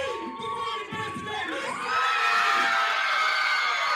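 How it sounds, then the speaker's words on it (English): Fans in an indoor arena erupt into loud cheering and high-pitched shouting, building from scattered yells into a sustained roar of the crowd. "The C-Fit fans are certainly going crazy in there."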